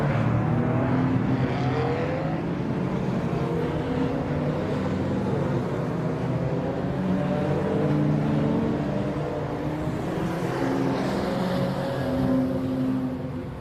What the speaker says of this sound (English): Rob Birley leads them away on the formation lap here for the Classic Modern Motorsport Club Southern Series, TinTops and Super Saloons race one here at Brands Hatch Indy